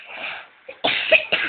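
A young child coughs in short, fairly close bursts: one brief cough, then two louder hacking coughs in quick succession.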